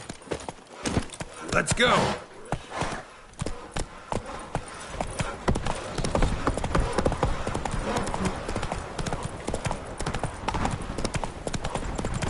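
Roach, a horse in the video game The Witcher Wild Hunt, gallops with rapid, continuous hoofbeats up close, while a voice speaks briefly at the start.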